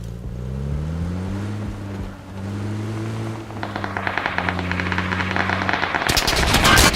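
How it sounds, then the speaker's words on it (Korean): Bursts of automatic gunfire from enemies in the PUBG battle royale game ring out rapidly over a droning vehicle engine, growing denser and louder toward the end. "우리 보고 80 애들이 쏘고 있어"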